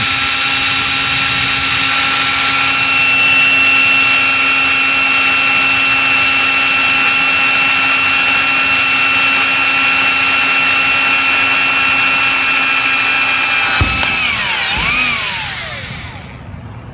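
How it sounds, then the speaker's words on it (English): A power drill with a 1/8 inch bit whines at a steady high pitch for a long stretch while drilling screw holes for a storm door, then winds down with a falling tone as it stops. "Now that I have my pencil markings, I'm just drilling holes to start out the screws."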